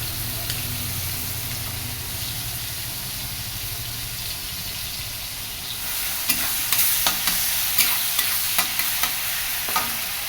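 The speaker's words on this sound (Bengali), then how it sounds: "তেলে দিয়ে দিলাম আর ওর মধ্যেই রসুন বাটা দিয়ে দেবো" Garlic paste fries in hot oil alongside prawns coated in salt and turmeric, giving a steady hiss and sizzle; a series of sharp utensil taps clicks against the pan in the second half.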